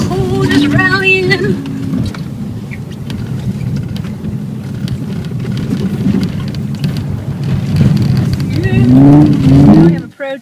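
An Audi rally car drives on a frozen lake, engine droning and revving steadily up close with rising and falling pitch, while people talk excitedly over it.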